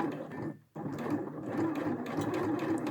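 A domestic sewing machine stitches linen in a fast, even whir, stopping briefly for a moment before running on steadily at close range.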